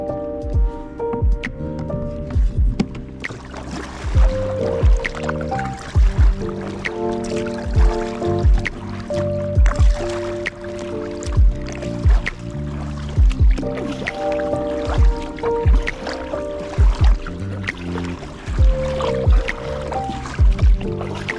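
A fishing kayak is paddled at sea off Eastbourne in summer. Regular, close paddle strokes splash and slosh in a steady rhythm for the whole stretch over a continuous tonal background, with no talking.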